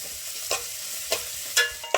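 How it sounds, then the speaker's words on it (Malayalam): A sardine curry made with ground coconut simmers in a pan, giving faint, soft bubbling with a few distinct pops and stirring clicks spaced through a short stretch, with no talking. "ഈ കറി ഇങ്ങനെ തിളച്ച് പക പോലെ പൊന്തി വരും"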